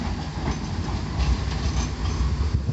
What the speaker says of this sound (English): So it's rare that I actually get to see the trams set off from Blackpool.